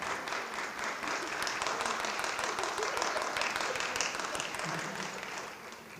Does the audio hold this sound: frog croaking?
no